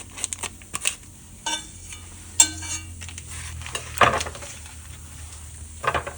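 Butter sizzles softly in a pot for broccoli and cheddar cheese soup while a utensil scrapes and clinks against the sides in irregular bursts.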